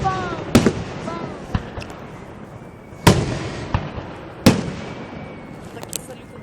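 Fireworks at the Heidenheim Volksfest: several sharp, loud bursts with crackling tails, spaced a few seconds apart, while people talk nearby between the blasts.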